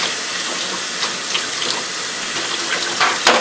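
A kitchen tap runs into a sink while raw chicken is being cleaned, giving a steady, close splashing hiss with a few brief spatters near the end.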